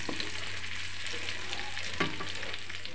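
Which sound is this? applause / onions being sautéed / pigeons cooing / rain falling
onions being sautéed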